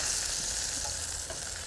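Sole fillets frying in foaming butter with lemon juice in a pan, a steady close sizzle and hiss with faint crackles throughout, no voices.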